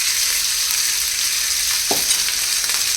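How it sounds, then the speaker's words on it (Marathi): Steady hiss of leftover cooked rice stir-frying in a hot pan, with a brief scrape of a spatula stirring it partway through; no voices. "ते छान एकसारखा परतून घ्यायचं"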